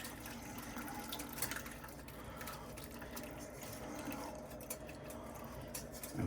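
Liquid from a slow cooker pot roast runs through a strainer into a pot. The quiet pour trickles and splashes steadily throughout, with a few soft clinks.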